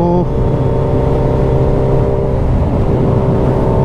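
A Suzuki Hayabusa Gen 3 motorcycle cruises at a steady speed on cruise control, giving a loud, constant engine drone mixed with rushing wind, with no talking.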